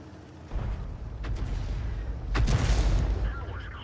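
A self-propelled artillery gun fires in a tank video game, two loud booming blasts landing about two seconds apart, the second heavier and followed by a rumbling tail.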